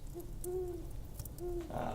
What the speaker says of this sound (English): That would be Rollo, my pet owl.